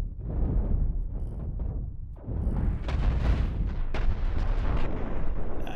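Cannon fire in the space ship combat game Cosmoteer: a continuous barrage of deep booming blasts and rumbling impacts, loud and dense, with a short dip in the middle before the heavy firing resumes.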